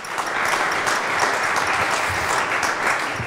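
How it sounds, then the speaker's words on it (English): Steady, dense applause from a large conference audience at a talk on SolarPunk, loud and continuous for the full stretch with no voices over it. "I think that deserves another round of applause."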